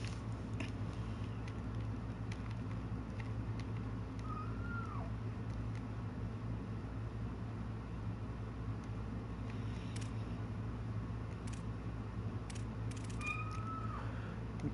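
A cat gives two short meows, one early and one near the end, faint against a constant low hum and background game noise.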